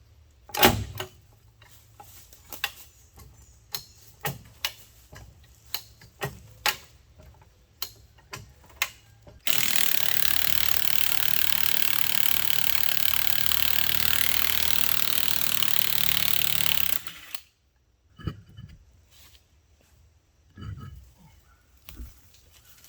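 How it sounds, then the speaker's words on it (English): Jacking up a 1975 C20 truck abandoned in the woods for 39 years and removing its wheels: scattered ratchet-like clicks and taps, then a loud, steady tool noise running for several seconds before the clicking resumes. "What I'm going to do first is jack it up and try to get these wheels off"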